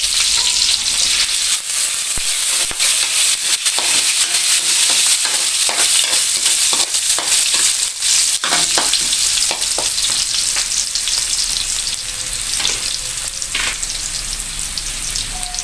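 Chili and rambutan seeds fry loudly in hot oil in a pan, a constant close crackling sizzle with scattered sharper pops and a few stirring scrapes.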